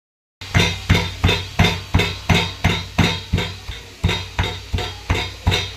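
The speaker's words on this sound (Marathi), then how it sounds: "शेंगदाणे कुटून घेते" Roasted peanuts pounded by hand, likely in a mortar and pestle: about fourteen loud, close, evenly spaced thuds in a steady rhythm with one brief pause, no voices.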